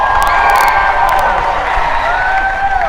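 Crowd of high school students at Fort Pierce Central High School cheering and shouting loudly, a sustained roar of voices with whoops and a few claps mixed in.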